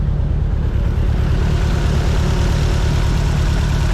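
A car engine idling steadily after starting, a continuous low rumble that stays even and close for the whole stretch with no misfiring or revving, no voices.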